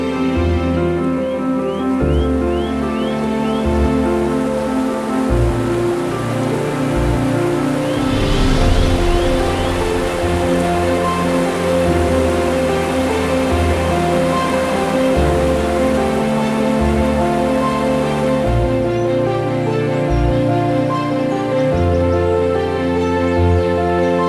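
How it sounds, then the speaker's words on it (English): Norway's Vøringsfossen waterfall roars in a continuous, dense wash of rushing water, loud and unbroken for the whole stretch, with no voices. "The gushing sound of the fall"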